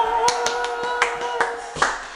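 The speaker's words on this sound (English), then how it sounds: "may we have an applause, please? An applause." A lone person claps a handful of times, seven or so sharp, close claps in an uneven rhythm, with faint room noise between them.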